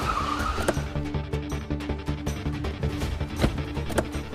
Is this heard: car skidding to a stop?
yes